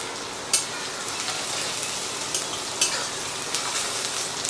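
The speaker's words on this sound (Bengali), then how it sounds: "তো পেঁয়াজটা দিয়ে একটু নাড়াচাড়া করে ভেজে নেব।" Two medium onions, finely chopped, fry in a pan of spice tempering for dhaba-style egg tadka, giving a steady close sizzle broken by a few sharp scraping clicks as they are stirred.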